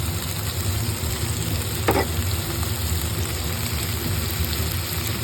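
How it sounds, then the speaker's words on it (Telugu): Tomatoes go into frying onions in a pan for a tomato curry, giving a steady, close sizzle with a brief clatter as they drop in, no voices. "టమాటాస్ వేసేసుకుందాం మొత్తం"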